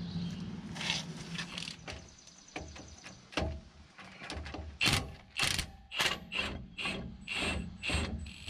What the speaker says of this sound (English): we're gonna take off these two bolts on this bracket here